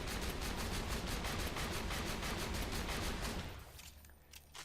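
Hyperion pearlescent gun in Borderlands 2 fires a dense, loud run of rapid shots with a steady pulsing rhythm for about three and a half seconds, then cuts off into quieter game sounds.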